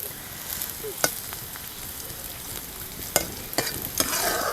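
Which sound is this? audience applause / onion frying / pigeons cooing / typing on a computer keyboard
onion frying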